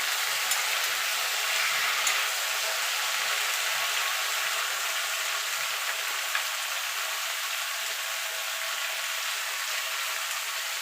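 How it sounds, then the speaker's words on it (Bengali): Eggplant and pumpkin fry in a pan for a mixed vegetable chhokka, making a steady bright sizzle with faint stirring movement beneath, even and close throughout with no speech. "বেগুনটা আর কুমড়োটা দুটোই দিয়ে দেবো। এবার নাড়াচাড়া করে নেব।"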